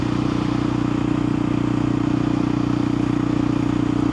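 KTM 500 EXC-F single-cylinder dirt bike cruising on country roads, a steady close engine drone with a constant buzzing hum and wind rush, no talk.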